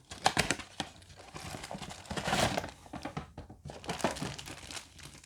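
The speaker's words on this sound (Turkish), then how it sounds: "Gelin kutuyu bir açalım." Crinkling and crumpling of cardboard and plastic packaging, with irregular taps and rustles as a Philips HEPA filter set box is handled and opened up close.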